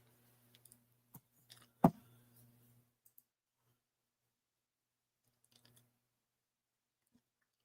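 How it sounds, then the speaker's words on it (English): Sparse, quiet clicks from a computer keyboard being typed on, coming in a few short scattered bursts with long near-silent gaps between them. "I'm typing, hoping that will inspire you to type."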